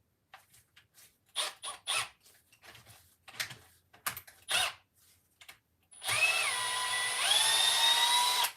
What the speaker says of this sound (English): Get that out of there with the old drill.